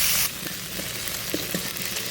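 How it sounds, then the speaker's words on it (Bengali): Cut potatoes fry in hot oil in a pan, a close, steady sizzle that starts with a loud hissing burst as they go in and then settles, with a few soft clinks and no talking. "এবার আলু কাটা ভেজে নেব।"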